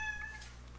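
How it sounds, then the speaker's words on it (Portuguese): A cat gives a brief, fairly faint meow over a steady low background hum, with no talking. "E participação do gatinho."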